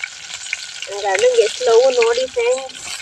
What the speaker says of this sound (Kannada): ಸಾಸಿವೆ ಸಿಡಿತವ, ನೀನು ಹುಷಾರು.